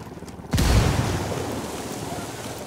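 A frag grenade goes off in Ghost Recon Wildlands with a single heavy, booming blast after a brief quiet moment, then a long rumbling tail fades out.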